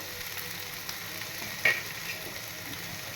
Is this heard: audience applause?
no